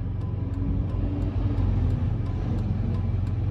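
A straight truck downshifting on a hill, heard from inside a moving vehicle as a steady low engine rumble with faint repeating ticks, continuous and fairly loud with no talk.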